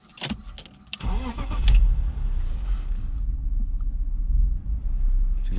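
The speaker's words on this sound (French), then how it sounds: "tu vois le ralenti là. Et la pompe on l'entend bien tourner" A BMW 523i with a fault idles alongside its running fuel pump, beginning with a few sharp clicks that settle into a steady, loud, low rumble.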